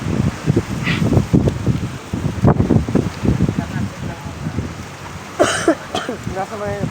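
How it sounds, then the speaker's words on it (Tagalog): Strong wind buffets the microphone with low rumbling gusts, and a person speaks briefly near the end. "Lakas-lakas na ng hangin. Lakas ng hangin. Hangin yan."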